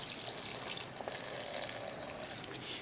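Water poured into a blender jar holding spices, oregano and whole cumin, a steady faint splashing stream lasting a few seconds without pause, no voices.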